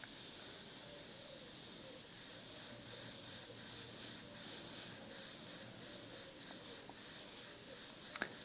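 An airbrush puffs base coat at 10 psi, a faint, steady airy hiss running continuously with slight pulsing, close to the microphone, ending in a small click.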